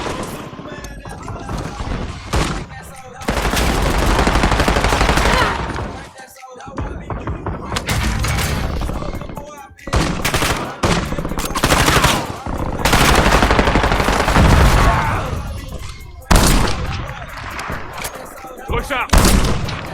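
Video game gunfire in a combat match comes as bursts of loud automatic shots and impacts with brief pauses between volleys, under a player speaking French.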